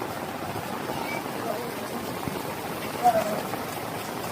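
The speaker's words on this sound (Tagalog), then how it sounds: "Ang lakas ng ulan." Heavy rain pours steadily on a street in Barangay 18, Tondo, Manila, during sewer declogging work, making a dense, even hiss with faint voices somewhere in the background.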